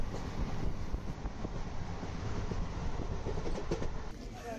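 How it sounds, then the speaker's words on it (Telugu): A passenger train pulls into Dindigul railway station in Tamil Nadu, a dense, steady rumble of wheels and carriages with faint clicking on the rails, close and continuous throughout. "ట్రైన్ వచ్చేసింది."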